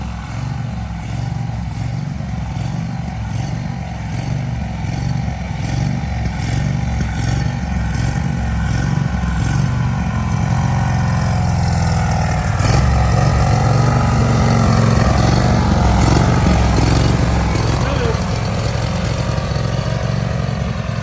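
A DR field and brush mower engine idles loudly and close, a steady low chugging rumble that holds throughout and thickens slightly partway through.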